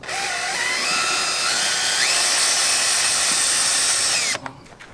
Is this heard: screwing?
yes